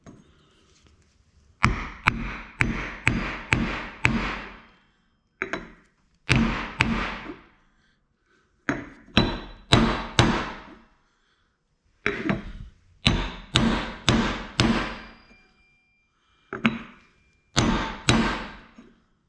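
Hammer blows driving wheel bearing seals into a Ford Super Duty Sterling 10.5 axle: close, sharp metallic strikes in quick bursts of three to six, separated by short pauses.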